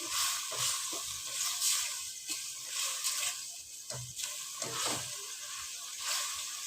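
Spiced chicken filling for spring rolls sizzles in a pan while being stirred, a steady close hiss broken by soft scraping strokes, with no talking.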